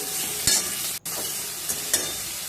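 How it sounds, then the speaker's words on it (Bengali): Potatoes and tomatoes with turmeric and salt are stir-fried in a pan, a steady close sizzle broken by a few scraping stirs from a spoon, with no voices. "টমেটোর সাথে এবার এর সঙ্গে দিয়ে দেবো পরিমাণ মতো হলুদ এক চামচ আর পরিমাণ মতো লবণ দিয়ে ভালো করে কষিয়ে নেবো"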